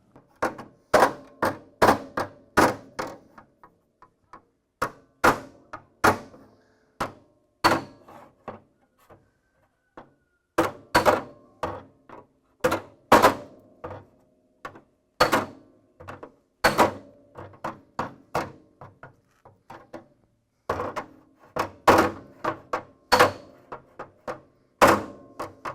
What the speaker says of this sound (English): I'm putting pressure downward on the heel dolly and I'm hammering upward.